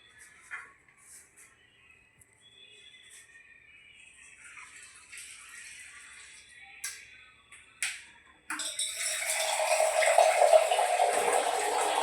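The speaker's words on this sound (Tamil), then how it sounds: "நாம இதில் ஒரு அஞ்சு லிட்டர் தண்ணி ஊற்ற போகிறோம்" Five litres of water poured onto grated coconut in a large vessel, a quiet trickle and a few clinks first, then a loud steady gushing pour that runs to the end.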